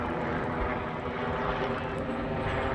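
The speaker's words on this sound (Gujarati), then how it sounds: "ચાલો હવે તો આપણે હેલિકોપ્ટર નીકળ્યું છે હેલિકોપ્ટર જો" A helicopter flying overhead outdoors, heard as a steady, continuous broadband engine and rotor roar that holds at an even level throughout, with no voices.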